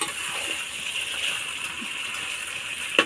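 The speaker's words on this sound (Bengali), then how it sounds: "জল দিয়ে দিয়েছে, জল দিয়ে দেওয়া হয়েছে।" Water pours steadily into a pot of chicken curry with potatoes, a continuous rushing gush that ends in a small clink near the close.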